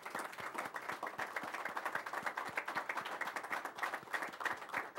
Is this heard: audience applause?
yes